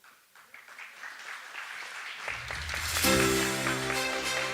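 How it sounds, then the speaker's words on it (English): Graduation ceremony audience breaking into applause, starting faintly and swelling to loud, sustained clapping with a steady musical tone underneath. "The audience is requested to rise in applause, celebrating this symbolic march forward."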